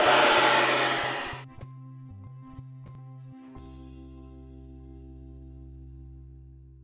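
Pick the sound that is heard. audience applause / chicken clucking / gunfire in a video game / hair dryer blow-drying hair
hair dryer blow-drying hair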